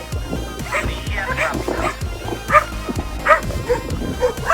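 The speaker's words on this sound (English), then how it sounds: "Everywhere dogs, free and happy." Many dogs at a dog shelter bark, yip and whine at once in a busy, overlapping chorus, close and loud, continuing throughout.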